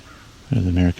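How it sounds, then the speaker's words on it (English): American crow cawing in open fields along the Bruce Trail at Cape Chin North, a loud, close, harsh call in two quick bursts after a brief quiet moment. "There's an American crow in the background."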